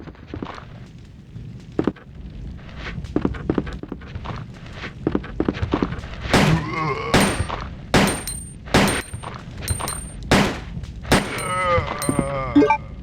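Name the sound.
pistol gunshots in video game Resident Evil 2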